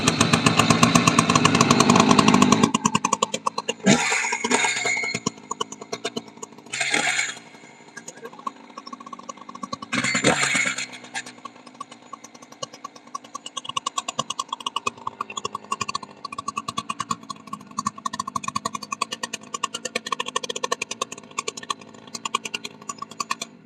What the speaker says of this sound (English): There would be no victory dance if the chainsaw started every time.